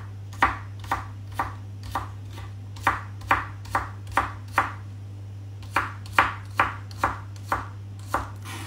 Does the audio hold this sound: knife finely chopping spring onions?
yes